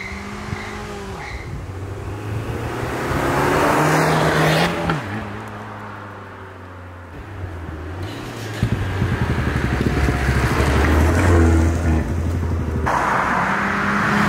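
A remapped Abarth 595 with aftermarket exhaust tips driving on a road near a racetrack, the engine droning and rising through gears with a loud, close exhaust note and tire noise, no talking.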